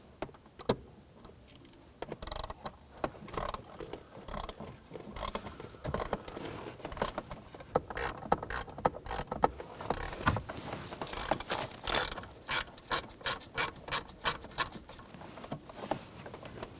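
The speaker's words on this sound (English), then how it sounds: "Using a T20 socket, we're going to take these screws out." A hand ratchet with a T20 socket takes out screws holding the blower motor module on a 2007-2013 BMW X5. The close, quiet clicking comes in irregular runs of ratcheting ticks and small mechanical rattles.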